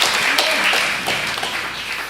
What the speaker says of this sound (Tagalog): Malakas na palakpak ng ating pinakamamahal na Panginoong Hesus.